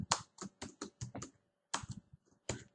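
Computer keyboard typing heard up close: quick bursts of light key clicks in uneven clusters, a short pause, then a few more taps, faint and alone with no voices.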